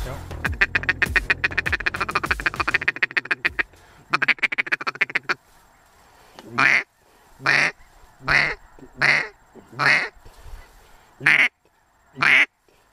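Mallard ducks on a South Dakota waterfowl hunt give a fast, overlapping run of loud quacks, then a short pause and a steady series of about seven separate, evenly spaced quacks close by.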